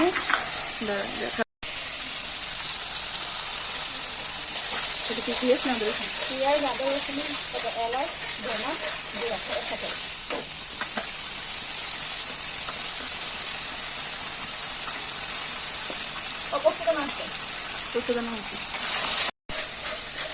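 Egg curry with onion paste, garlic, ginger, cumin, poppy seeds and ground coriander sizzles and fries in a pan, a loud steady hiss broken by brief stirring scrapes, with faint voices underneath.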